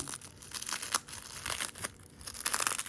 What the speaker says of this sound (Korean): 이 비닐도 일반 비닐이 아니라 랩이네